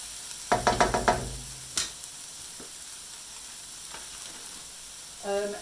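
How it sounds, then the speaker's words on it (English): Onions softening in a pan, stirred with a few quick knocks and scrapes of the utensil near the start, then a quiet, steady low sizzle with a brief clatter at the end. "Give it a bit of a stir. And just kind of soften your onions a little bit."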